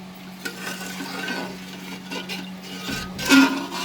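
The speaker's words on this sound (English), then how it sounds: "Just mix everything together" A utensil scrapes and swirls through rice, potatoes and water in a pot, with soft knocks and a louder scraping stir near the end over a steady hum.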